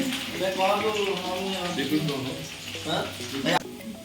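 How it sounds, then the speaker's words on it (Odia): Onions hit hot oil in a pan while chicken biryani is being cooked, giving a continuous sizzle and crackle throughout as a person talks over it close by. "ତେଲ ପକାଇନି ଦେଖନ୍ତୁ ସାଙ୍ଗମାନେ ଆଉ ଗୋଟେ ଜାଲ ଦେଇ ପିଆଜ ପକେଇନି"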